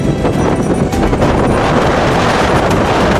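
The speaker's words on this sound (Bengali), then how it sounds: "এখন খুব জোর হাওয়া চালাচ্ছে" Strong wind roars continuously across the microphone on the Odisha coast, with a heavy, unbroken rumble of crashing sea waves beneath it.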